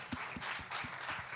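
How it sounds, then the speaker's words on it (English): Audience at a platform event on waste management and the circular economy gives a short round of applause, with dense, close individual claps in a quick rhythm throughout. "Round of applause."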